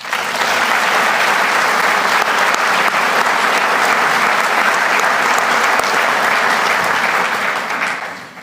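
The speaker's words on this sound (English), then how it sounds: "Please give this whole group one more round of applause" A large crowd at a firefighter academy graduation in Saint Paul gives a sustained, loud round of applause, a dense even roar of clapping that holds for several seconds before tapering at the end.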